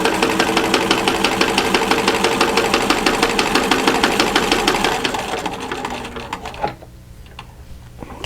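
A sewing machine stitching a pillow cover at roughly 10 to 12 stitches per inch runs in a loud, close, fast steady rhythm, then slows and stops near the end, leaving quiet handling noise.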